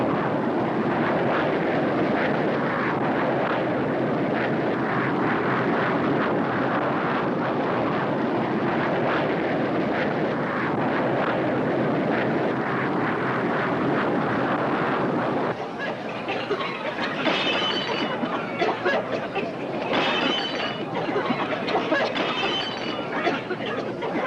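A jet airliner in flight over the Atlantic, a steady dense cabin roar that shifts partway through to a rougher, more fluttering rush, with possible voices faintly underneath.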